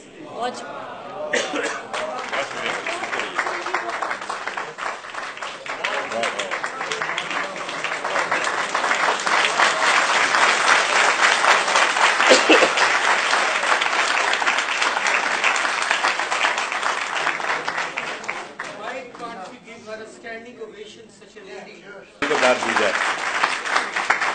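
An audience applauds after a recitation of Urdu poetry, a long dense wave of clapping that swells and then eases, with light chatter and coughs mixed in.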